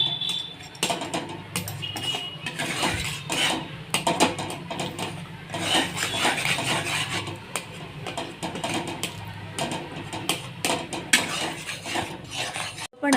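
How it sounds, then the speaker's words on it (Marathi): Khoa for orange burfi roasting in a pan on a full flame, a spatula scraping and knocking steadily against the pan in continuous strokes, close and fairly loud. "ह्या प्रकारे आपल्याला चांगला खवा भाजून घ्यायचा आहे। याच्यामध्ये मी गॅस फुलच ठेवलेला आहे।"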